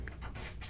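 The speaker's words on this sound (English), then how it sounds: "That's my dog trying to get into the office." A dog trying to get into an office pants and scuffles briefly against a steady low background hum.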